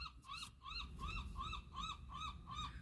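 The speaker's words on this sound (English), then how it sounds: "I got seagulls interrupting my Bible study." Seagulls call repeatedly outdoors in a rhythmic series of rising, wailing cries, fairly loud and close over breezy background noise, with no talking.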